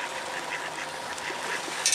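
Ducks quacking during a walk along an avenue, a dense, steady chatter of many birds close by with no voices over it.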